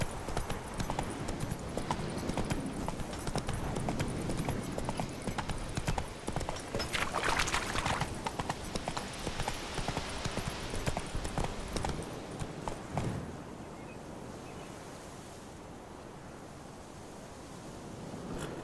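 Horse hooves galloping at a steady clip-clop rhythm while riding in The Witcher 3 video game, loud and close for about thirteen seconds before dropping away to quieter ambience.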